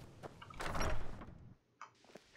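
A wooden door opens in Skyrim with a heavy creak and thud that swells and fades over about a second, followed by softer clunks as it settles.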